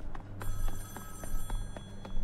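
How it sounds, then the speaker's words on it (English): An old-fashioned telephone rings in Splatoon 2's Octo Expansion, a series of regular bell-like pulses repeating roughly every half second over a low background hum. "we got a phone call."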